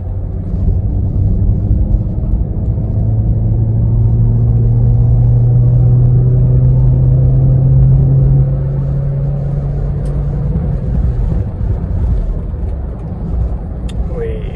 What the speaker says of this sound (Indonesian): Coba kita tarik ya guys gasnya ya